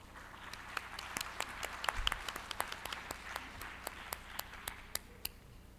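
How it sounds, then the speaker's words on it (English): Applause from the audience at an OECD press conference as the first speaker comes up: scattered, fairly faint claps from a small crowd, irregular and thin, with no one speaking over it. "Please greet her with a big round of applause."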